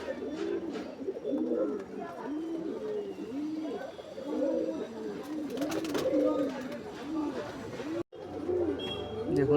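A pair of Malwai pigeons coo steadily and close by, their repeated rounded calls overlapping in a continuous rhythm with a brief break near the end, while soft voices murmur underneath.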